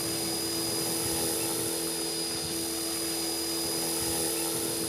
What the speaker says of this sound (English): Then fly the helicopter back at the home position.